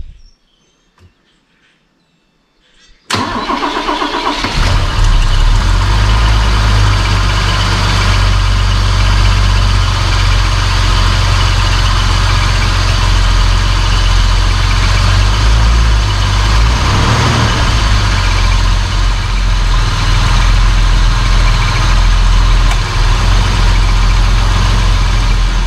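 A Mercedes-Benz 280SE engine cranks briefly after a few quiet seconds, then fires and settles into a steady, loud, rumbling idle with the air conditioning on. The idle runs continuously and close by for the rest of the time.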